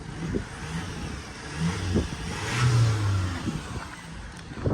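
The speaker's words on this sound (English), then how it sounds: "I'll give it a little rev to see though." A high-mileage Vauxhall Astra engine is revved up briefly and falls back, a close, moderately loud swell of engine noise over a rumbling idle, with no talking.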